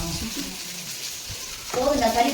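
Mustard seeds sizzle in hot oil for a fish curry, a soft crackling hiss that swells louder near the end, with brief low talk underneath.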